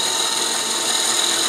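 A wood lathe spins a chickadee ornament blank, giving a steady whirring hum with high tonal whine and even level throughout, no speech.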